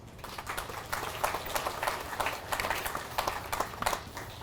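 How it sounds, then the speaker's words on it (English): Applause from the audience at a police department's annual memorial ceremony: a dense, steady patter of many hands clapping, moderately loud and sustained throughout, with no voices over it. "A round of applause."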